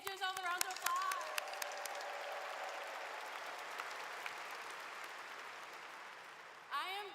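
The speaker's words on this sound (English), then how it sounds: "Give yourself a round of applause." Sustained applause fills a university commencement ceremony hall, steady crowd clapping that follows a brief spoken line and fades as a voice returns at the end.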